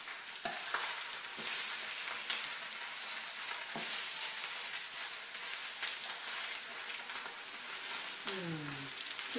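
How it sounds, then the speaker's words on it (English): Lemon tofu stir fry sizzles in olive oil with a loud, continuous crackle, broken by occasional spatula scrapes and taps. A faint voice rises briefly near the end. "You can hear them begin to sizzle."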